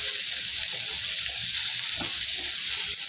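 Tomatoes go into a pan of sizzling onions for a restaurant-style butter chicken gravy, giving a steady, fairly loud hiss of frying that holds for the whole stretch, with a brief stirring scrape partway through.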